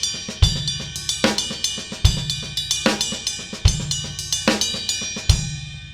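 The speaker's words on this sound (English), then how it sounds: "What about the bell of the ride cymbal up here, side of the stick?" Double paradiddle groove on a drum kit with the ride cymbal bell struck by the side of the stick, bright ringing pings in a fast steady pattern over kick and snare hits, close and loud, no talking.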